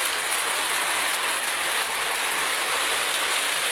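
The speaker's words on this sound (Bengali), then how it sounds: "খালি বৃষ্টি আর বৃষ্টি" Heavy, continuous rainfall near a rural house makes a constant, loud wash of hiss with no pauses and no voices.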